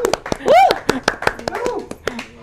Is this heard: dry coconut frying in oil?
no